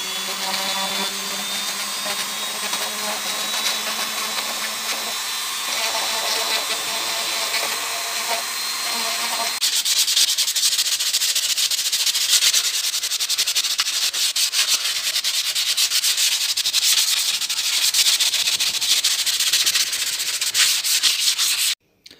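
A Dremel rotary tool fitted with a small engraving bit runs steadily over a routed wooden plaque, giving a continuous high whine and grinding hiss. Its pitch and texture shift partway through, and no one speaks.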